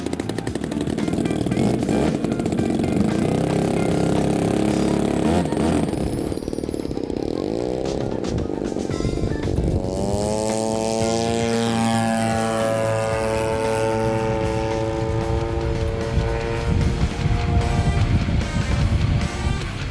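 A small model aircraft engine warming up screams at high pitch, its revs rising and wavering as it runs continuously up close.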